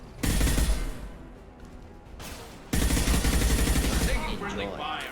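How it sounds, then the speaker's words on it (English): Automatic weapons fire in the Mass Effect sci-fi shooter, dense bursts of rapid shots in two loud stretches with a short lull between, mixed with game voices and effects. "Taking friendly fire."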